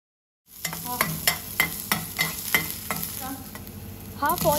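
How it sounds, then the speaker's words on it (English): Coriander seeds, ginger and garlic sautéing in a pan over a low to medium flame, a continuous sizzle punctuated by regular spoon stirring scrapes, close and fairly loud. "1 tablespoon of coriander seeds and saute them in a low to medium flame for around 1 to 2 minutes."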